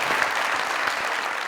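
Studio audience applause on a Pakistani comedy talk show, steady dense clapping filling the whole short moment without any voices.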